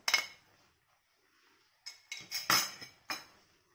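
Metal utensil clinking against a pan while white sauce pasta with vegetables is stirred, one sharp clink followed after a pause by a quick cluster of four louder knocks and scrapes, close and alone.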